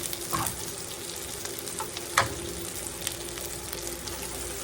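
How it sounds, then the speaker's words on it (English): Onions fry with a steady sizzle in a pan while tomatoes are dumped in and stirred, and one sharper splash and crackle stands out partway through. "Because I'm fixing to dump my tomatoes in here now."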